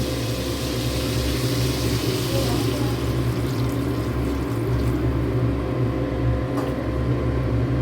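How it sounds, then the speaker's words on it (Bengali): Hot water poured into a pan of fried spice paste for a hilsa fish curry with taro, a steady broad wash of pouring and bubbling liquid that continues loudly throughout. "এবার এখন গরম জল দিয়ে দিব"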